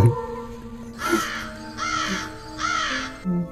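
Three harsh, raspy night bird calls ring out one after another in a forest, loud and nearby, with quiet pauses in between.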